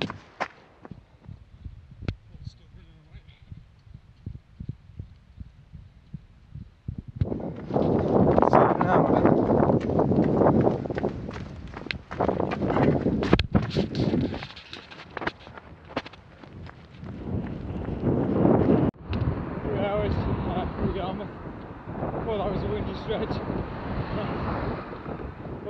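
Wind buffets the microphone on a sunny day during a long outdoor run. A fainter stretch gives way to loud, gusty roaring that rises and falls, with faint footsteps beneath.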